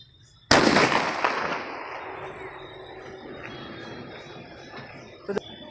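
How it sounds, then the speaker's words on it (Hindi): A Diwali sky shot shell bursts fairly low with a sudden loud bang, and its crackling rumble fades slowly over several seconds before a small pop near the end. "स्काई शॉट का शेल थोड़ा नीचे ही फट गया"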